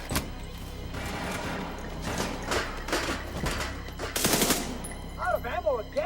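Rapid machine gun bursts from a video game, loud and repeated across the span, with bursts of gunfire clustering near the end and a brief warbling game sound effect at the close.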